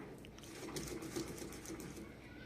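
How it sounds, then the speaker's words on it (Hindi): A hand grinder works a mustard, onion and chilli masala paste, a low continuous rubbing, churning sound with soft rhythmic pulses, fairly faint and close. "हैंड ग्राइंडर इसमें सही तरीके से पीस जाता है मसाला"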